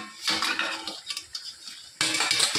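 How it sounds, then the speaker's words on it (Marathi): A metal lid lifted off a cooking pot of green moong and bottle gourd curry, with close clanks and scrapes of metal cookware at the start and again at the end. "इथे आता आपले अजून 1 मिनिट झालेला आहे आणि आपण झाकण काढून घ्यायचं आहे."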